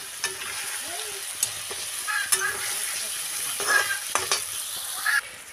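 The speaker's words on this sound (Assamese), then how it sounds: "এতিয়া তেলত মই 10 মিনিট সময় ভাজি ল'লোঁ" Cumin powder fries in hot oil, giving a steady close sizzle with occasional scraping stirs and soft clinks of a utensil against the pan, no voices.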